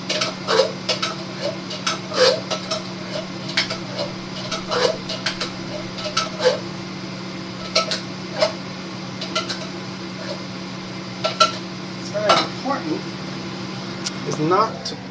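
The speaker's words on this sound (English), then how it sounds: "use this spoon to get all that sauce going" A spoon scrapes and clicks against a pot of mac and cheese with chili beans and sauce, giving irregular light taps over a steady hum, while someone talks throughout.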